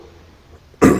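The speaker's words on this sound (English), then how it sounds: "That was a cough." A single loud cough bursts out at the very end after near silence, close and abrupt.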